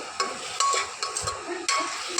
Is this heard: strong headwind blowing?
no